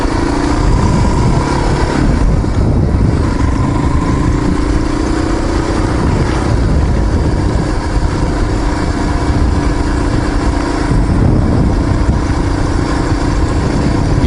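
Heavy motorcycle engine droning loudly and continuously up close while riding along Proctor Valley Road through deep sand, with a rough buzzing tone, shifting revs and heavy wind rumble throughout.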